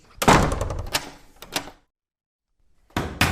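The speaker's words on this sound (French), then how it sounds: "Vite, il le fit entrer et referma la porte au nez du loup." A wooden house door shut in a children's story of the three little pigs: a couple of close, solid knocking thuds and clatters, a stretch of silence, then another burst of knocks.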